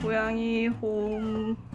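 A cat meows twice in quick succession, close and clear, the drawn-out cries rising and falling in pitch.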